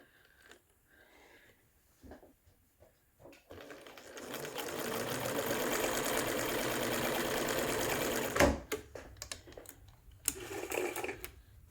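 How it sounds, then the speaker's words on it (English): A sewing machine runs a long straight stitch through a piece of material for a gathering stitch, a steady mechanical whir lasting about four seconds after a few soft handling clicks, then stopping abruptly with small taps and rustles. "put the piece of material under the foot of our machine"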